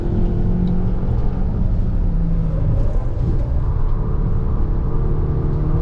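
VW Arteon Shooting Brake plug-in hybrid wagon lapping the Nürburgring in GTE mode, a steady close engine and road rumble with faint whir from inside the cabin, holding fairly even throughout with no talking.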